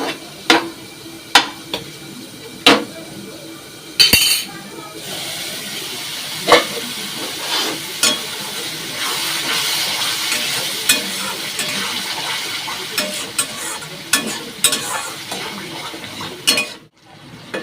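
Meat sizzling and hissing in a hot pan is stirred at intervals with sharp scraping clacks, and the steady frying hiss grows louder near the end before stopping abruptly, with no talking.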